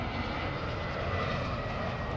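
A United Airlines airplane at LAX, its engine roar a steady, broad rumble heard from a distance without a break.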